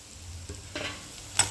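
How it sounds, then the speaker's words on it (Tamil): Spices and onions sautéing in oil, with a soft steady sizzle and a few scraping stirs of a spoon in the pan, close and without talk. "சேர்த்து இதையும் இந்த எண்ணெயில் வதக்கி வச்சுருவோம்."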